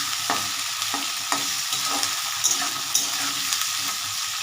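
Onions for ghugni fry and sizzle in a pan while a spoon stirs them, with the steady hiss broken by repeated scraping strokes that come close together.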